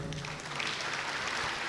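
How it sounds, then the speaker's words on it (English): Audience applause at a merSETA engineering event, a soft, steady, even patter of clapping hands that sounds distant and fills the whole short stretch with no voices over it. "That deserves a round of applause"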